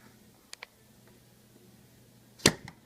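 A Technics keyboard key is pushed back into its spot, giving one sharp, close click-clack, preceded by a couple of faint ticks in an otherwise quiet room.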